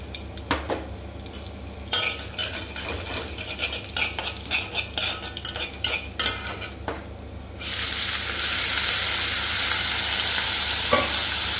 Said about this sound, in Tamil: இந்த மாதிரி பொடியா நறுக்கி வச்சிருக்க வெங்காயத்தை நான் போட போறேன்.